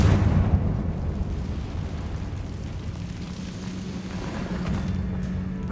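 Confringo fire-spell explosion in the Hogwarts Legacy game, a loud rumbling burst at the start that settles into a steady roar and crackle, with no talk over it.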